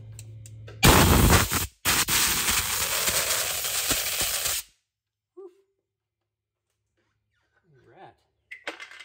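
Compressed air blasts out a trailer brake assembly in a loud, close, hissing burst. It stops briefly, continues for about three seconds and then cuts off, followed by quiet handling noises.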